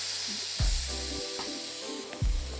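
Beef fillet sears on a hot pan over a barbecue side burner, a steady close sizzle swelling in two loud bursts as the meat is laid and rolled onto fresh metal.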